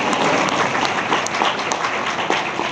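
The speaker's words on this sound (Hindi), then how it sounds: "जोरदार ताली बजाइए प्रभु के लिए" A church congregation at a Hindi-language gospel service claps loudly and continuously, dense sustained applause filling the whole stretch without pause.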